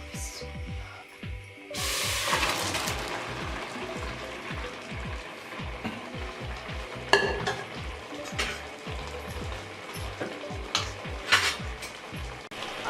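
Boiled mutton tripe is tipped and turned into a karahi, giving a loud clatter of metal utensils and scraping against the pan with rapid rhythmic knocks, a sizzling hiss rising partway through, and occasional sharp clanks.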